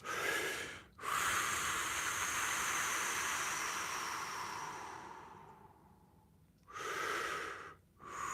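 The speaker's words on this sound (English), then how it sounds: "to activate the parasympathetic nervous system, which is the rest and digest, it is long, slow exhalations" Long, slow exhalations through the nose or mouth as a calming breathing exercise, a drawn-out breathy hiss lasting several seconds, close and alone, framed by short inhales.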